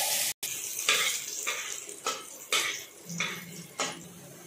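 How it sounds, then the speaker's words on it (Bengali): Cumin seeds and chopped garlic frying in oil, a close sizzle broken by about six scraping stir strokes of a spatula in the pan at roughly even intervals. "এরপর আমরা দিয়ে দিচ্ছি রসুন কুচি। এগুলোকে 1 থেকে 2 মিনিট সময়ের জন্য ভেজে নিলেই হয়ে যাবে।"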